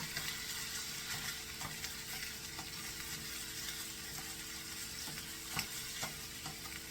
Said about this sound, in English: the hamburger is just cooking away